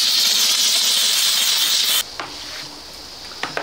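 A steam cleaner hisses loudly and steadily for about two seconds while cleaning the sole of a dumpster-found sneaker outdoors, then stops abruptly, followed by quieter scrubbing and clicks.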